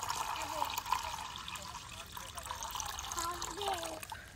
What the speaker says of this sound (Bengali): দিয়ে দেবো এর মধ্যে আরো পরিমাণে জল।